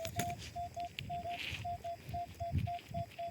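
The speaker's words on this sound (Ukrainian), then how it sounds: "дзвонить воно просто феєрично. Ви послухайте" Minelab Equinox metal detector giving a repeated clear, high beeping signal tone over a field in Poltava region, a regular series of short pulses heard close and steady above faint background noise.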